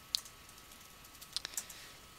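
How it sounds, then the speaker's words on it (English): A few quiet clicks of keys on a computer keyboard as the ifconfig command is typed on an Ubuntu server, sparse and soft with brief gaps between the strokes. "You just type ifconfig."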